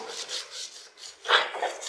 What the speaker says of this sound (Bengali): গন্ধবাদালি পাতাগুলো আমি একদম মিহি করে বেটে নেব।